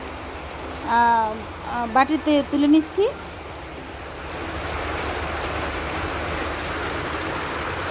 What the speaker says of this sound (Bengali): বাইরে প্রচুর পরিমাণে বৃষ্টি হচ্ছে